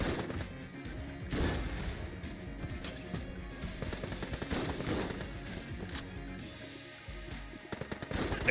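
Rapid video game gunfire, bursts of machine-gun fire and single gunshots crackling almost continuously with crashes mixed in, loud and dense throughout.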